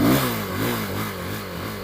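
A motorcycle engine runs close by with a rough, droning revving tone that stays loud and steady for about two seconds; there is no talking.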